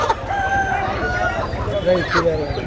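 Country hens and roosters at a rural Sunday poultry market in Vizianagaram district, Andhra Pradesh: continuous clucking and crowing bursts close by, mixed with people talking in the background.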